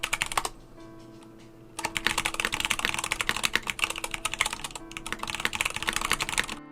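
Fast, dense clacking keystrokes on a Time TKL / Time 80 mechanical keyboard with aluminum accents, close and crisp, with a brief pause after an opening burst before continuous typing resumes.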